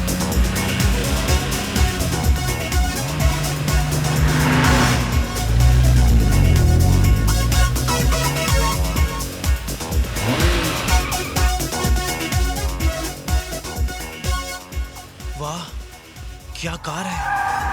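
A car drives through a loud, busy mix with tires squealing and skidding, the engine and screeching tires sitting under music and voices throughout.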